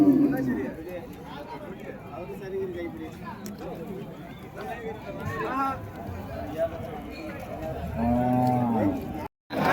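Cart bullocks low and moo several times amid the murmur of the Uthangarai cattle market crowd, with people talking nearby and one louder call toward the end.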